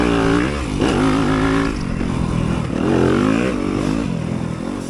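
A dirt bike racing in a harescramble at Crazy Horse, Buena Vista, Georgia, its engine loud and close, revving and shifting pitch as another rider passes, with no talk over it.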